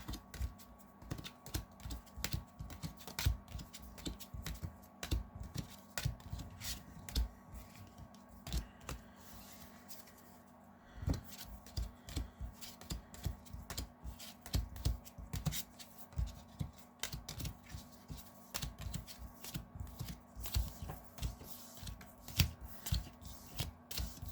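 Magic: The Gathering cards are shuffled by hand, soft rapid riffles and flicks repeating in irregular bursts for a long stretch, quiet and close, with a brief pause midway.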